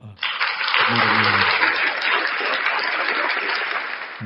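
Steady crowd applause from a sound card effect plays loud and continuous for several seconds, with a voice briefly speaking underneath near the start.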